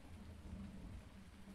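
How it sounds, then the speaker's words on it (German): A thunderstorm with steady rain in the Farming Simulator 19 video game, heard as a faint, continuous wash of rainfall over a low rumble, with no voices. "Ey, das regnet und gewittert"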